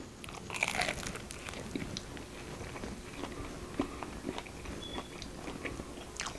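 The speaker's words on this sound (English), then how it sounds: "It's chewy. It's cheesy. It's crunchy." Crunchy cheesy jalapeno bread from a Dutch oven being bitten and chewed up close, a crisp crackling first bite followed by softer steady chewing, fairly quiet with no talk.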